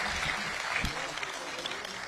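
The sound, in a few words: audience applause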